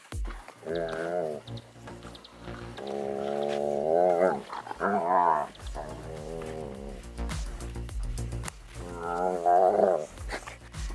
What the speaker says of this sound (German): Die Hunde sind sich schon wieder am Käbbeln.